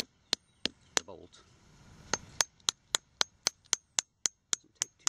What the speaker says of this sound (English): Do this by just tapping this cocoon that's around it.